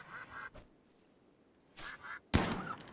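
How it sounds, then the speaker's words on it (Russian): Ducks fighting in the Rimworld video game, giving a few short, sharp quacks in separate bursts with quiet gaps between them, the last burst louder and harsher. "А вообще он рубится с утками."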